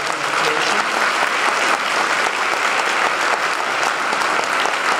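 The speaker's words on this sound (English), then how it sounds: "want to extend another round of applause to Dennis Picard on his presentation." An audience claps loudly and steadily after a history presentation on Shays' Rebellion, a dense, continuous burst of applause filling the whole moment.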